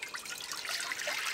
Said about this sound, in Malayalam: അപ്പൊ നമുക്ക് ഇതിനകത്ത് വെള്ളം ഒഴിച്ച് വെക്കാം.